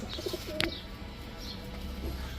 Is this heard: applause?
no